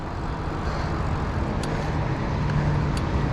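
A car passing along the road by the bay, a broad, steady roar of traffic that swells slightly near the end.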